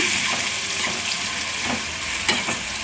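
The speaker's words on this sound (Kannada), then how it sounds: "ಇವಾಗ ಇದನ್ನು ಎಣ್ಣೆಯಲ್ಲೇ ಚೆನ್ನಾಗಿ ಹುರ್ಕೊಳ್ಳೋಣ." Garlic fries in hot oil for a garlic gojju, a steady close sizzle with occasional scraping stirs and small pops, no voices.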